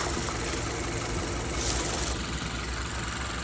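A 2023 Subaru Forester Premium's 2.5-liter flat-four engine idles with the hood open, a steady broadband rumble and hiss at a moderate, even level, heard alone.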